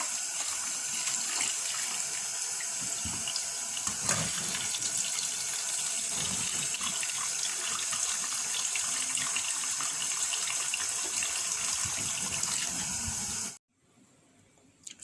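A kitchen tap runs steadily into a pot of boiled saltfish, refilling it with fresh water in a constant hissing splash that cuts off abruptly near the end.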